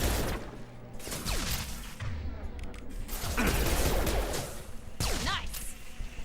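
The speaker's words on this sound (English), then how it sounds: "Whoa, that's a lot of rockets" Rockets firing and exploding in Mass Effect, a dense loud barrage of whooshing launches and booming blasts in quick succession with a few sharp whistling streaks, no voices.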